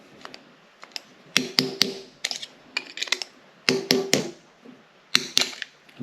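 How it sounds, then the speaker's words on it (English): Hammer tapping a screwdriver behind a tight flywheel key on a Mazda 13B rotary engine during teardown, sharp metallic clinks in short bursts of two to four quick taps separated by pauses, close and clear. "give it a little bit of a tap with a hammer"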